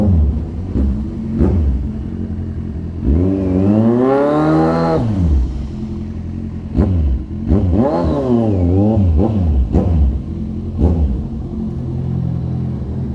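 A Kawasaki Z1000 motorcycle fitted with an SC-Project 61mm exhaust blips and revs hard several times close by, deep rumbling idle between sharp rising roars, with no talking.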